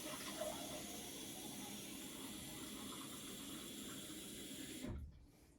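Watercolor rinse water running steadily from a tap while being changed out, a loud continuous wash that cuts off near the end, leaving a quiet room.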